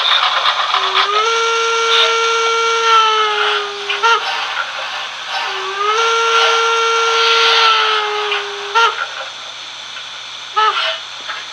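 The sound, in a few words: Märklin model steam locomotive sound effects, steam whistle and steam release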